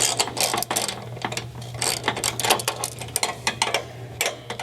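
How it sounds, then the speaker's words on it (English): A ratcheting 1/2 inch wrench and socket loosen a nut and bolt on a headboard's wall mount bracket, a quick run of close, rhythmic metallic clicks with no talk. "I'm going to just loosen these with a 1/2 inch wrench"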